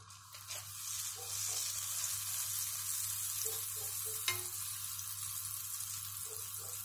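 Butter sizzles steadily in a hot frying pan, a soft continuous crackle with occasional light scrapes of a utensil.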